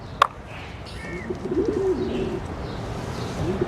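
Pigeons cooing nearby: low, soft, rolling coos that continue steadily through the scene, with a brief sharp chirp near the start and faint background ambience.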